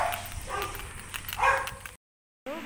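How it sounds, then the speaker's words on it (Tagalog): A dog barks and yips repeatedly outdoors along a street while waiting for a ride to a hospital, loud bursts over traffic-like background noise, followed by a short silent gap. "Ingay ng aso."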